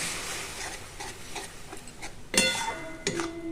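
Noni greens stirred in a cooking pot, a run of soft scraping stir strokes over a faint sizzle, then two sharper metallic clanks of utensil against the pot near the end.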